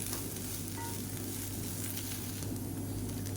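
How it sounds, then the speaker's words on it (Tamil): Beans stir-fry with a ground spice powder stirred in, sizzling steadily in a pan: a dense, constant frying hiss close by with faint scraping, and no voices. "சேர்த்துட்டு நல்லா கிளறி விட்டுக்கலாம்"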